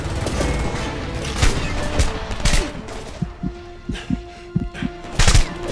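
Shotgun blasts in the video game Homefront, several loud booming shots spaced irregularly over dense game music and battle noise, with sharper reports clustered near the end.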